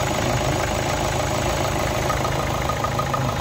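Renault Duster 85 diesel engine idling after an oil service: a constant, dense mechanical clatter and hum, close and steady throughout without variation.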